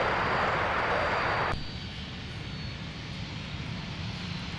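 A business jet taxis at Minneapolis–Saint Paul airport, giving a loud, steady engine roar with broadband hiss that drops abruptly to a lower, continuous whine, with no voices.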